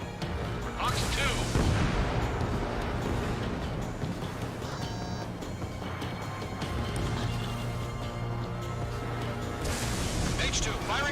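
Missiles launch in the flight combat game Ace Combat 7 with roaring whooshes over constant jet noise, one at the start and another near the end, while radio voices talk over the action.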